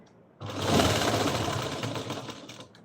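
A sewing machine runs steadily for a couple of seconds, a close, dense mechanical whirring with rapid stitching rattle that starts abruptly and tapers off.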